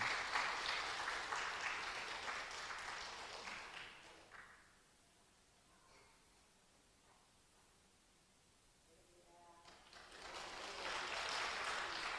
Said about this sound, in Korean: 우리 박수로 같이 환영하겠습니다.